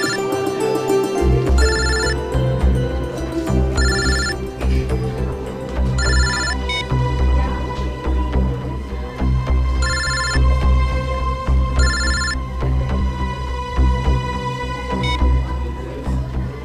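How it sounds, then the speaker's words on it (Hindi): A phone ringtone plays over and over in regular bursts, loud and close, with a steady background hum beneath it. "कौन बार बार फोन कर रहा है?"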